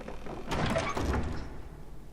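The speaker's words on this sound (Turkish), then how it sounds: "kapıyı açalım." Door opening in the video game Little Nightmares 2, heard as a short muffled thunk and scrape lasting about a second, fairly quiet and alone.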